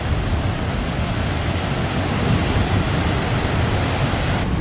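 Ocean waves at Tanah Lot, Bali, produce a constant, dense rush of surf, loud and even throughout with no voices, like a continuous wash of breaking water and wind.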